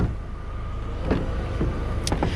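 Electric windows on a Hyundai i10 hire car whir briefly under a steady interior hum of the car.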